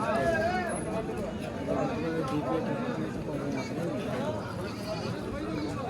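Goats, including Totapuri and Haryana kids, bleat repeatedly amid a busy crowd at a goat market, their wavering cries mixing with people talking all around.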